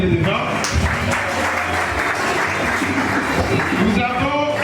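An audience at a mock trial by law students in Mwene Ditu claps in sustained, dense applause that fills the whole stretch, loud and close.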